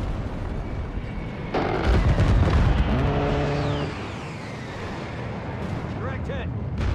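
An airstrike slams into a tank on a street in Call of Duty: Modern Warfare 3, a heavy boom rolling out over game radio chatter and battlefield noise.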